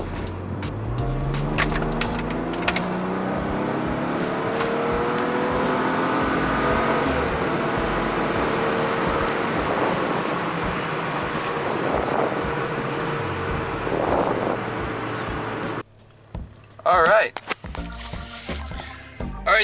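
Full-throttle pulls in a BMW E90 with a JB4 tune, the engine note climbing through rising harmonic sweeps across several gear changes, loud and steady for about fifteen seconds before dropping away to quieter road and cabin noise.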